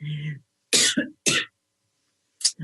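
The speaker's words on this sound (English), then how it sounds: "I'm about to get into a coughing fit" Several harsh coughs from a person with a nagging cough, a low hum first, then two close bursts of coughing followed by a pause and one more short cough near the end.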